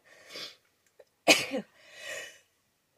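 A single close sneeze bursts out indoors mid-clip, framed by sharp breaths before and after in an otherwise quiet room.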